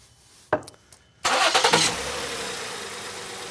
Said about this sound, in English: Now when we start the engine